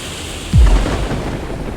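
A storm of wind and rain with a sudden deep thunder crash about half a second in. Heavy rumble then settles into a steady, loud wash of rain and wind, with no voices.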